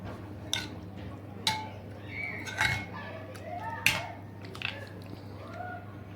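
Zinger burger marinade with a tablespoon of vinegar being mixed in a bowl, spoon clinking against the sides in a few sharp knocks over a low steady hum.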